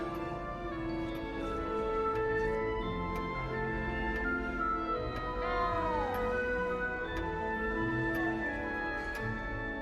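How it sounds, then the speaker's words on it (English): A small frightened cat in the Hogwarts Legacy video game meows repeatedly in clear, drawn-out cries with rising and falling pitch, heard close over a steady musical game soundtrack. "You don't need to be frightened, little cat."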